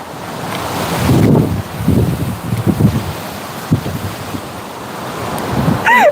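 Strong wind gusts roar and buffet the microphone, rising and falling in waves with no voices.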